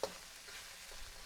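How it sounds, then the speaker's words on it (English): Curry ingredients frying in a pan give a steady, quiet sizzle with a brief sharper crackle at the start, heard alone with no talk. "So I'll let this fry to coat."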